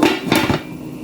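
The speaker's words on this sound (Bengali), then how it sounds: "এখন আমি ঢাকনাটা দিয়ে দিচ্ছি।" A lid set on a pot of cooking bottle gourd, two quick metallic clanks close by, followed by a fading ring over a faint cooking hiss.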